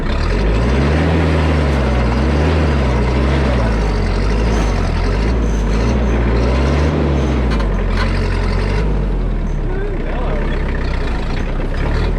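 A heavy tractor engine rumbles steadily and loudly up close while hauling cedar logs, its low drone rising and falling in pitch, with voices talking over it at times.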